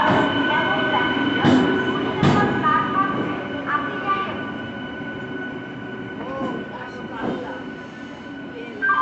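A passenger train running on a trip to Puri, a steady rumble of wheels on track with occasional metallic squeals and knocks, heard from inside the carriage at moderate loudness, with faint voices in the background.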